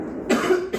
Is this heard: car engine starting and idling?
no